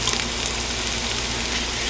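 Onions frying in a pan for cabbage soup, a steady close sizzle and hiss over a brief stretch, with no voices.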